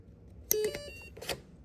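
MAXKGO 14S 100A AM32 ESC for a fixed-wing model beeping as the battery is connected during throttle calibration: a few short electronic tones close together, faint and brief.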